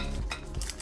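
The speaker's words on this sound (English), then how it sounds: "I'm gonna loosen it with a butter knife from the sides so it comes out easier" A butter knife scrapes and clinks against the sides of a pan as it loosens a cooled wild salmon loaf, giving a few short metallic scraping strokes, close and fairly loud.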